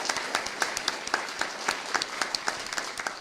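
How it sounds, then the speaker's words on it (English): An audience at a political meeting applauds the sheriff, a sparse scattering of individual claps with distinct hand strikes rather than a dense roar, moderately quiet and steady throughout. "let's take a moment and just give a round of applause to the sheriff"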